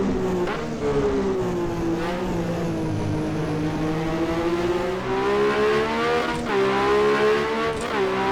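A 1982 Ferrari 126C2 Formula 1 car in the rFactor 2 simulator screams along with a continuous high-pitched engine whine that rises and falls through gear changes, loud and steady with no speech.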